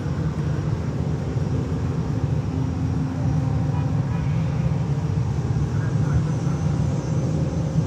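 A Southwest Airlines Boeing 737-800 takes off at Fort Lauderdale, its low, rumbling engine roar steady and fairly loud throughout, with a faint voice over it.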